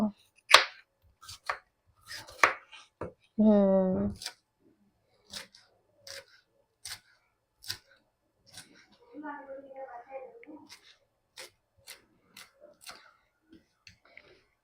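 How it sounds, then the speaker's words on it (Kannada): Cabbage chopped into small pieces on a home kitchen board, crisp knife cuts landing in a quick irregular series, close and clear, with a brief burst of other noise partway through. "ನೋಡಿ, ಚಿಕ್ಕದಾಗಿ ಹಿಂಗೆ ಕಟ್ ಮಾಡ್ಕೊತಾ ಇದ್ದೀನಿ ನಾನು. ನೀವು ಹಿಂಗೆ ಕಟ್ ಮಾಡ್ತೀರಾ ಕ್ಯಾಬೇಜ್ನ?"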